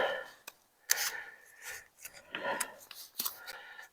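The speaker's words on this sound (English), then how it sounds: "I've got my trusty trimming clippers." Trusty trimming clippers snip Quinault strawberry plants potted in containers, giving a few sharp, close cuts scattered among soft rustling and handling of leaves and pots.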